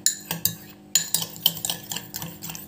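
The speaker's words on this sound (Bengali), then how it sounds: "হলুদটা কিন্তু ভালো করে আমি মিশিয়ে নিলাম।" Turmeric being stirred into a homemade face cream in a small bowl, a spoon scraping and clinking against the sides in a quick series of close, light strokes with no talking.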